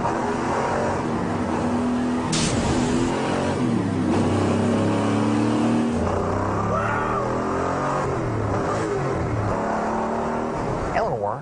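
A Ford Mustang Eleanor Shelby GT500 with 535 horsepower accelerates hard on nitrous, its loud engine roaring and climbing in pitch through gear changes, with a voice audible under the continuous engine noise.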